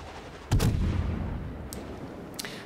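In World of Warships, the battleship Hindenburg fires a naval gun salvo: one sharp, booming report with a short rolling tail, followed by a couple of faint distant shots over a low background hum.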